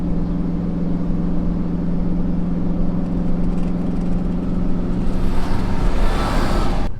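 A skid loader engine being driven onto a trailer runs at a steady, rumbling idle close by, with a constant hum and a slight rise in intensity toward the end, and no talk.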